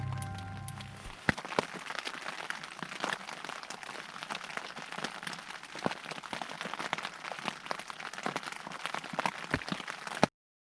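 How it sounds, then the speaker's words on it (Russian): Steady rain patters continuously in the dark in the Altai mountains, with scattered sharper drips tapping close by, and no voices. "10 секунд дождя в темноте."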